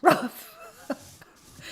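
A puppy yips and whimpers in a short loud burst at the start, followed by a few fainter sniffs and small noises indoors, with no talking.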